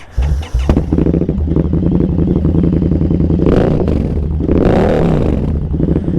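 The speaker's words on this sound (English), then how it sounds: "my amazing exhaust, we're going to hear it." An Indian FTR 1200 motorcycle engine revs hard twice through an aftermarket exhaust, roaring up and falling back between bursts over a steady rumbling idle, loud and close.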